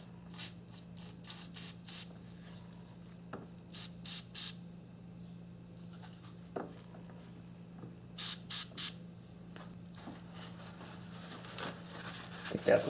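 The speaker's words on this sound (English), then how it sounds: "I'm actually going to give it another spray of this terminal cleaner." An aerosol can of battery terminal cleaner sprays onto car battery terminals in short repeated hisses, some in quick clusters, over a low steady hum, near and fairly quiet.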